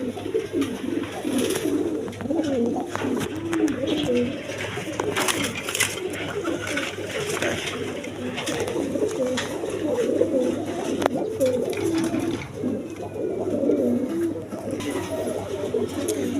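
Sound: pigeons cooing

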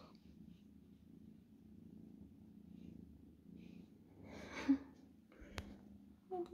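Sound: cat purring

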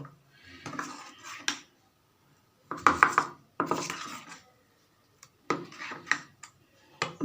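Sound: mixing khirer patishapta batter with salt in a bowl

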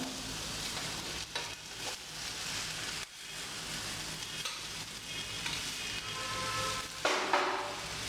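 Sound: sautéing tomato, tamarind and green chilies in a pan

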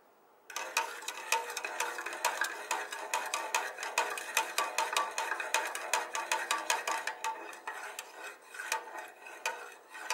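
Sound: spoon stirring sea salt into water to dissolve it

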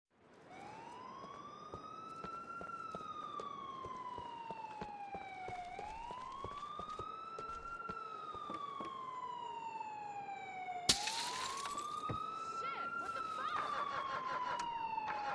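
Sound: police car siren in video game GTA 4

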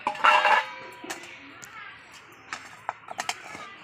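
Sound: lifting the lid off a cooking pot

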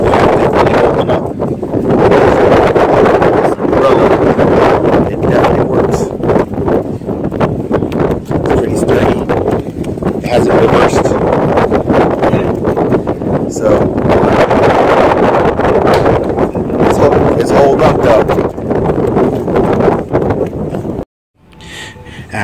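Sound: strong wind at the beach

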